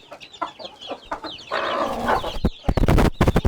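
Newly hatched Sussex chicks peeping in quick, high chirps, close and fairly loud, with a denser burst of cheeping midway and rustling or handling noises near the end.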